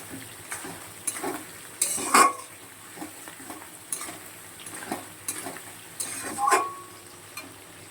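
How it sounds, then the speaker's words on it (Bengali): Prawns fry with potatoes, onion and tomato in a pan, a quiet sizzle running under irregular scrapes and clinks of a spoon stirring against the metal. "চিংড়ি মাছ আর আলুটা একটু ভাজা ভাজা হবে"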